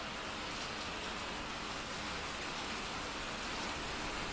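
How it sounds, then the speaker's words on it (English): Rain falls steadily in the Roblox game Stop it Slender 2, an even, constant hiss of dense drops with no gaps, no distinct patter and no voices over it. "While it's raining."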